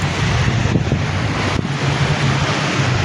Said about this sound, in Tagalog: Grabe alon guys, oh.